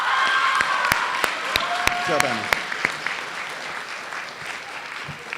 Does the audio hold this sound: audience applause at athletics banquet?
yes